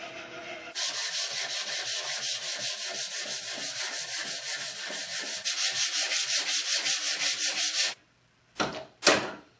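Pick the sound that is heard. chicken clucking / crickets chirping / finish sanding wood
finish sanding wood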